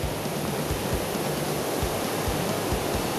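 Agua Azul waterfalls in Mexico, running brown rather than blue, give a steady, dense roar of falling water that stays loud and unbroken throughout with no voices.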